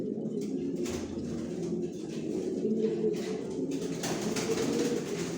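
Pigeons in a racing pigeon loft housing big birds, giving soft repeated throaty coos that overlap near and far, with faint rustling and no talk.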